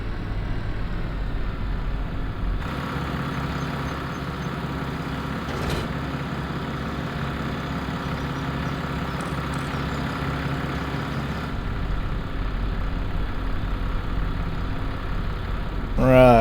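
A dirty farm tractor engine idles in a steady low rumble throughout, close and even, with a slight change in tone partway and a brief louder bump at the very end.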